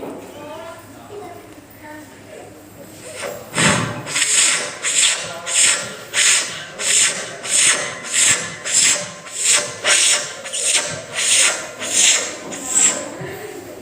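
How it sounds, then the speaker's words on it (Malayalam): Hand saw cutting through wood, a steady run of about a dozen rhythmic back-and-forth strokes, close and fairly loud, following a few seconds of quieter rustling. "അടുത്തതായി ചെയ്യാൻ പോകുന്നത് മരം മുറിക്കുമ്പോഴുള്ള ശബ്ദം"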